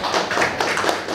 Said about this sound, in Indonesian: Tepuk tangan buat Andi Malewa.